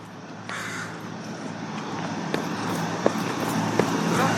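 Crows caw outdoors with several sharp calls spread across a steady background of distant traffic and wind.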